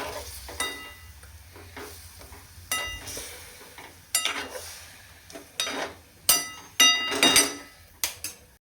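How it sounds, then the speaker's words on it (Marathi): Stuffed brinjal curry cooks on high flame in a pot, with a low bubbling boil beneath repeated clinks and scrapes of a spoon against the vessel, close up and without voices. "हाय फ्लेमवर त्याला एक चांगली उकळी येऊ द्यायची अगोदर"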